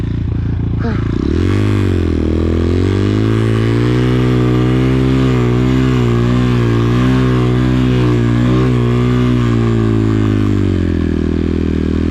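X-Pro Titan 250cc motorcycle engine running steadily at a moto park, a loud continuous harmonic drone with pitch rising and wavering as it revs and rides on.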